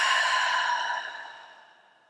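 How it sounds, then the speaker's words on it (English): A single long, breathy exhale during a breathing exercise, close and soft, fading gradually to silence over about two seconds. "Long exhale."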